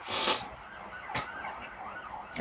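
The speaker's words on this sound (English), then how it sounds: "It's an ambulance." An ambulance siren wails in the distance, its tone sweeping up and down, with a brief sharp noise burst partway through.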